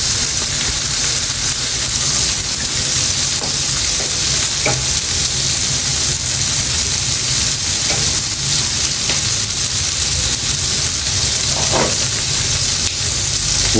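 Wagyu beef frying in its own rendered fat in a pan, a loud, continuous close sizzle with occasional stirring scrapes and no voices.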